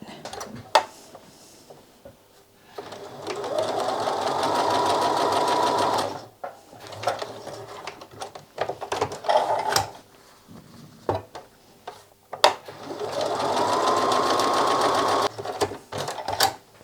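A sewing machine stitches quilt fabric in two bursts of fast, steady whirring, each a few seconds long, separated by soft handling clicks and fabric rustle, close up with no talking.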